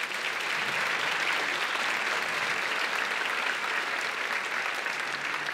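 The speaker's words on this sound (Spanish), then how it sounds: "les pido por favor un gran aplauso para las dos directoras" Audience at a Beijing dance academy performance at Teatro Nescafé de las Artes applauds the two directors, a dense, steady sustained clapping from a full theatre crowd throughout, with no talk.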